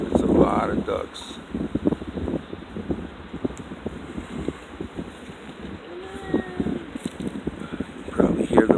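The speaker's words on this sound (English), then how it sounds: "You probably hear the wind." Warm outdoor wind on a breezy day by the water rumbles steadily against the microphone, moderately loud, with scattered rustles and a voice speaking over it.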